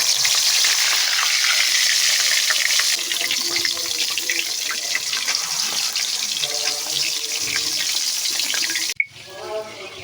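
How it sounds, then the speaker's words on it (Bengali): Fish hisses in hot oil in a wok, a loud dense continuous sizzle that stays strong for most of the stretch before cutting off abruptly near the end, followed by a brief clatter. "এখন মাছটা আমি দিয়ে দেবো তেল গরম হয়ে গেছে"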